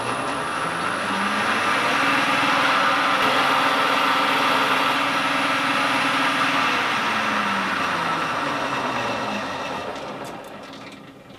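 A milling machine table is driven along its travel, giving a steady mechanical whine and hum whose pitch rises, holds, then falls before fading near the end, with no talking.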